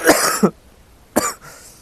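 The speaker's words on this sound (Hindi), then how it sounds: "फिर से खांसी यार" Two sharp, close coughs, the first longer and the second after a short pause, with a brief throat-clearing tail.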